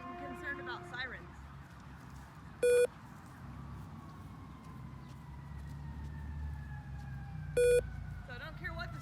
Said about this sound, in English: Now we're getting concerned about sirens.